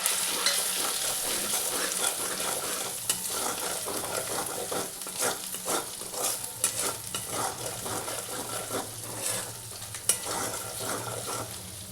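Spices sizzle and fry in a pan with garlic and ginger while being stirred for palak paneer, giving a continuous bright hiss with scraping stirs and light clinks of utensil against pan, close up with no talking.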